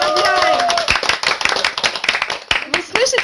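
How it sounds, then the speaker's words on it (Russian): Sharp hand claps ring out in a quick, uneven burst, mixed with voices talking over them throughout. "Вы слышите наши бурные аплодисменты?"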